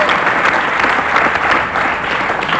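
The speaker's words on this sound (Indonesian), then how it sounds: "Tepuk tangan." A studio audience applauds on an Indonesian TV talk show, a steady, fairly loud wash of clapping filling the whole stretch with no voices on top.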